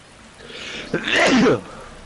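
A single sneeze, a short indrawn breath followed by a sharp, close burst, with no speech.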